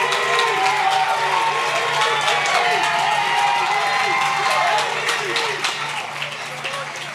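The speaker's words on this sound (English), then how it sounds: "Please give them a huge round of applause." Applause and cheering for faculty and staff at a Brooklyn math and research school's 2022 graduation, a loud, sustained crowd of clapping with shouts and whoops that gradually fades over about seven seconds.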